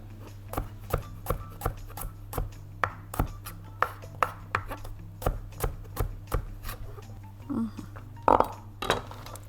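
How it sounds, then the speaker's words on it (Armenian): A knife finely chops garlic on a cutting board in a steady run of sharp, close taps, roughly two per second, with a brief clink of utensils near the end and light background hum. "Կարող ենք այսպես մանր կտրատել։"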